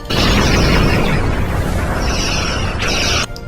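A loud, sustained explosion as a target is destroyed in Star Trek space combat, a roaring boom lasting about three seconds before cutting off abruptly.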